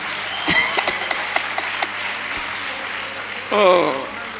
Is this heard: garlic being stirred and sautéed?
no